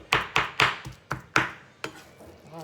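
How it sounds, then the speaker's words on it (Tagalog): Hand chopping on a board: six or seven sharp knife thuds at an uneven pace, close by, with quiet gaps between them. "Nakakapagod lang magtadtad."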